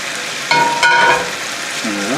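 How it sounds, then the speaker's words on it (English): Potatoes sizzle and crackle in hot olive oil in a pan with a steady frying hiss, plus a few clinks and scrapes of stirring. "I got potatoes frying."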